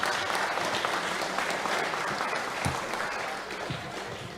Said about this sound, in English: So let's have a round of applause for all the volunteers that have helped put this event together.